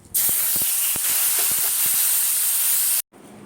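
Raw prawns coated in salt, turmeric and lemon juice hit hot mustard oil in a kadai, giving a loud, steady sizzle with a few crackling pops that stops abruptly near the end.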